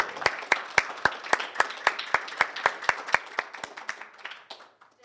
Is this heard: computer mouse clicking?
no